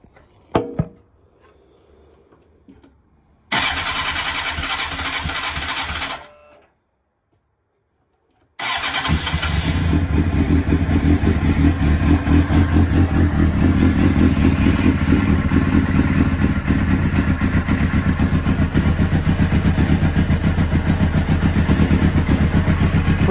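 A Suzuki GSX-R SRAD motorcycle with a fuel-leaking carburettor is cranked. A short burst of starter noise breaks off. After a pause the engine catches and runs loud and steady at idle, close to the listener.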